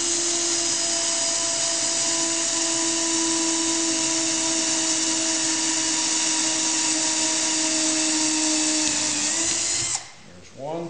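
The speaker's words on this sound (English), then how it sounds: "So I got my drill with my 3/16 bit, and I'll go ahead and I'll drill these holes for the locating pins." A hand drill with a 3/16-inch bit bores locating-pin holes in a formed aluminum rib for a Bearhawk aircraft, a loud, close, unbroken whine for about ten seconds that then winds down and stops.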